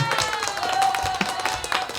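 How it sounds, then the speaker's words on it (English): A small audience claps for a guest on a talk show, giving a brief, scattered round of applause with uneven hand claps close by, and a voice speaking over it. "Come on, give her a round of applause, everybody."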